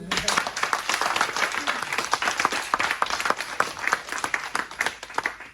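A church congregation applauds at a revival service, with steady, dense clapping from a crowd that carries on for several seconds, mixed with scattered voices.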